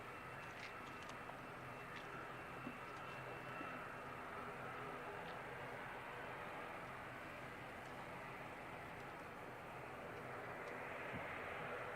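An ATR turboprop airliner at Christchurch Airport, heard as a faint, distant, steady engine drone that swells slightly near the end, with no talking.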